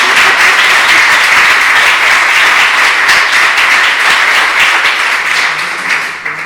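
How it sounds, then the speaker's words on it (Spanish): An audience applauds an author at a library meet-the-author event, steady dense clapping filling the room for several seconds before thinning slightly at the end. "Os pido desde ya un aplauso."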